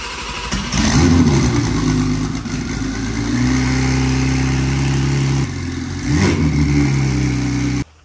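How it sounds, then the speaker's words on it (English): A built BMW G80 M3 engine in a 1500 hp build fires up for the first time and revs, holding a loud, steady mechanical drone with a couple of surges before cutting off abruptly near the end. "I think it's time to start the car"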